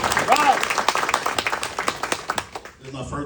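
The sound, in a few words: audience applause for the Crumps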